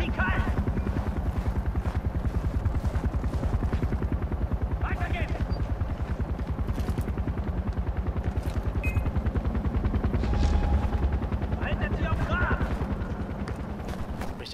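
A helicopter in the video game Far Cry 4 gives a loud, steady rapid rotor chop throughout, with scattered gunfire and clatter over it and German speech heard in places.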